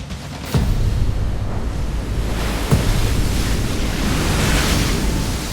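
Ocean surf rolling in along a coast, a steady loud wash of breaking waves with wind noise buffeting the microphone and a couple of sharper crashes, no voices.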